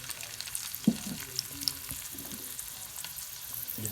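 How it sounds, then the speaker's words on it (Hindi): Onions frying in hot cooking oil, a continuous close sizzle with a few stirring knocks and scrapes, no voices. "प्याज को हम लाइट ब्राउन करेंगे।"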